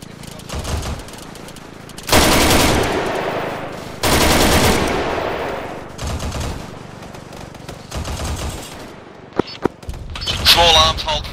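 Heavy automatic gunfire in the video game Arma 3 pounds in long, loud sustained bursts with short gaps, a few sharp single reports near the end and a voice talking beneath the shooting.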